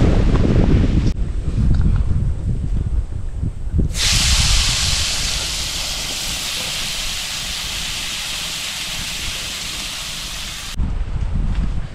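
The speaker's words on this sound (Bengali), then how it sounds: "বাহ, কি সুন্দর হাওয়া।" Wind blows outdoors, rumbling and buffeting against the microphone, with a broad steady hiss through the middle stretch and stronger gusts at the start and end; nobody speaks.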